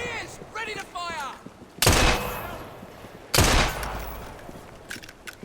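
Rifle gunfire in the video game Assassin's Creed Syndicate: after brief shouting, two loud, sharp shots ring out about a second and a half apart, each trailing into a reverberant decay.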